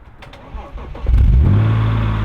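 A Chevy Volt's engine fires up, a brief quiet clatter swelling at once into a loud, steady low rumble that keeps running close by.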